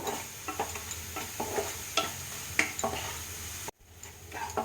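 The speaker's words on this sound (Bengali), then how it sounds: "এবার আমি মশলাটা কিছুক্ষণ কষব" Spice paste with salt and a little sugar being stir-fried in a pan, a steady close sizzle broken by repeated scraping strokes of a spatula, with a brief pause near the end before the frying resumes.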